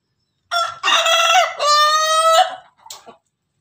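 An Ayam Ketawa rooster gives a single loud, close crow in several rising and falling segments, ending with a short trailing note, against near silence.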